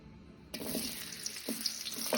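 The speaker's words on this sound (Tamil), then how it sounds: "பெரிய வெங்காயத்தை போடுவோம்." Sliced large onions hit hot oil in a heated pan for egg idiyappam kottu, giving a sudden steady sizzle with a few stirring scrapes, close and moderately loud.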